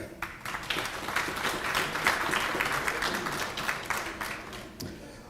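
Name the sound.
applause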